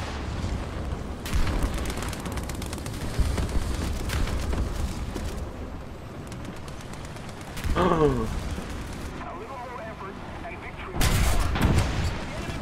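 Tank cannon fire in War Thunder, with a Sherman II among British armour, comes as loud booming blasts at about 1, 8 and 11 seconds over a constant rumbling battle backdrop, with a voice briefly audible.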